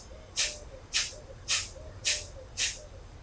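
Five sharp breathy exhales of Kapalabhati yoga breathing, forced through the nose at an even pace about every half second, with soft quiet inhales between them against a faint low room hum.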